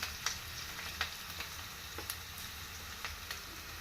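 Onions and ginger paste frying in a pan for a ridge gourd curry, a quiet, even sizzle with light, regular taps of a spoon stirring.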